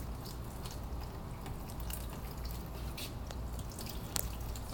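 Liquid ceramic glaze trickles and drips onto pottery set over a catch tray, a soft, steady wet pattering with occasional louder drops, close and quiet with no talking.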